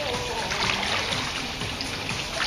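Pool water is pushed and splashed in aqua aerobics, a continuous close sloshing and churning that runs steadily throughout.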